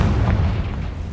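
A Confringo spell explodes in Hogwarts Legacy, a loud, close, deep boom that fills the whole short moment with rumbling low-end blast and no voices.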